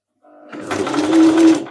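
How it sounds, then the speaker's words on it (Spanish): A domestic sewing machine runs briefly with the presser foot lowered, sewing three or four stitches in a short, steady mechanical whir that rises and holds loud and close, with no voices over it. "Bajamos el prensatelas y cosemos 3 o 4 puntadas"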